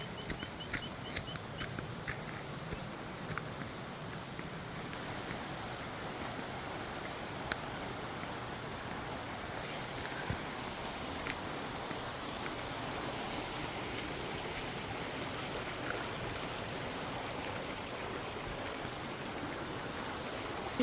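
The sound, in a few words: mountain stream flowing in Chakrata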